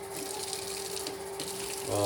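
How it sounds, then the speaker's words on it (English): Water pours from a tap into a stainless steel coffee maker, a steady close gushing stream with a faint hum beneath, swelling briefly louder at the very end. "I'm just filling this with water up till that little thing right there"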